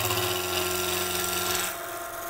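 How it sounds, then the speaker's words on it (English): Steel turning chisel cutting spinning wood on a Coronet Herald woodturning lathe, a steady rasping scrape over the lathe's motor hum, easing off near the end. "Again, chisel cuts here."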